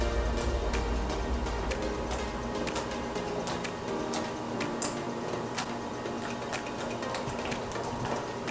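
Fingernails tap and click on homemade bouncy slime in quick, irregular ticks, close but faint over a steady hiss.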